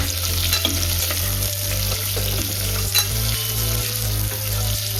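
Thinly sliced onion fries with whole spices for mushroom biryani, a steady, fairly loud sizzle with light stirring scrapes and a constant low hum underneath.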